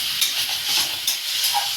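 Banana flower curry being sautéed in a pan, a soft hiss of frying with a couple of faint stirring scrapes, brief and fairly close.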